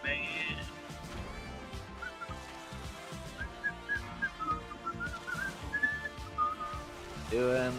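A person whistles a wandering, melodic tune in short phrases, moderately close and fairly quiet, over a low rumble, with some talk and background noise around it.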